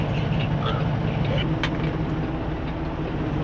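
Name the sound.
road traffic passing by a truck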